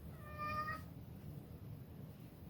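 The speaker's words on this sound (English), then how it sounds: "My cat is crying in the background." A house cat meows once, a clear drawn-out cry wanting to go outside, fairly faint and indoors over a steady low hum, followed by quiet.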